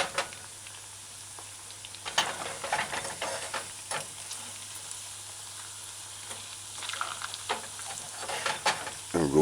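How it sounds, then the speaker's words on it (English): Chicken pieces for General Tso's chicken sizzle and crackle in hot oil, with occasional stirring and clinks from utensils nearby. "putting the pieces that are frying quick"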